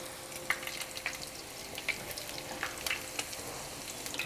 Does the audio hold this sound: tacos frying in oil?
yes